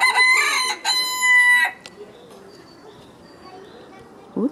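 Chinese-breed chickens and roosters on a Ukrainian village farmyard, with loud, close rooster crows in the first second and a half, then quieter clucking and faint farmyard background, and a short burst near the end.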